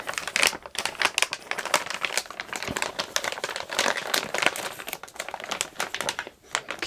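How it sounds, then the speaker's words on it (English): Plastic packaging crinkled and crackled continuously while unwrapping a Netgear Nighthawk AX8 RAX80 Wi-Fi 6 router, close and fairly loud with dense irregular rustles and crunches. "let's get this unwrapped here"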